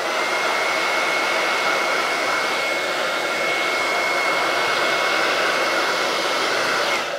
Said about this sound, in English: Once your hairdryer starts heating up too, you don't really need to apply that much heat.